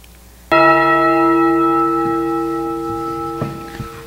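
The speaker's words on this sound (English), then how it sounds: "All we ever hear are these bells," A single church bell strikes loudly once, its rich tonal ring sustaining and slowly fading over several seconds, with faint background noise near the end.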